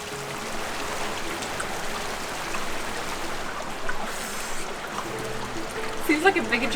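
A stream trickles and flows steadily through a desert canyon at Wadi Ghuweir in Jordan, a soft, continuous wash of water with a few faint nearby sounds.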